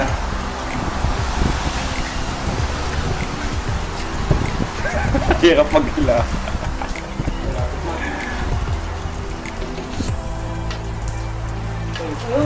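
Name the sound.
heavy rain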